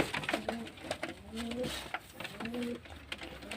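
Pigeons coo in repeated soft, low rolling phrases, several overlapping calls close by in a loft, with no voices over them.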